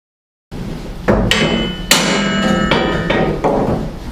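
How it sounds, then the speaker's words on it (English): A hammer strikes the welded X brace on a Jeep TJ, ringing out several loud, close metallic blows in an uneven rhythm, with no speech. "Time to start removing this X brace."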